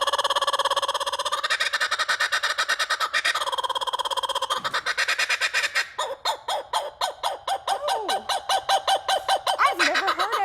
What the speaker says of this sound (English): this is Donk, and he is a laughing kookaburra